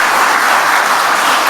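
Steady applause from an audience at a political speech by Megawati, dense and continuous throughout, with no voices over it.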